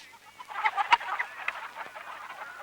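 A chicken clucks in a short burst of bright, close squawks at a village poultry seller's spot in a Tamil comedy scene, the calls bunched early then thinning out, with no talk over them.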